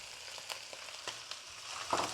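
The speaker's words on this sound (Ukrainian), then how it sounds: "І все перемішуємо і підсмажимо також до красивого золотистого кольору" Pork, onion, carrot and mushrooms sizzle together in a frying pan, a steady close crackle broken by several light clacks of stirring.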